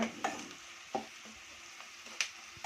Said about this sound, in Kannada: ಈರುಳ್ಳಿ ಹಾಕ್ಕೊತಾ ಇದ್ದೀನಿ. ಒಂದು ಈರುಳ್ಳಿ ತೊಗೊಂಡಿದ್ದೀನಿ. ಇದು ಚೆನ್ನಾಗಿ ಫ್ರೈ ಮಾಡ್ಕೊಳ್ಳಿ.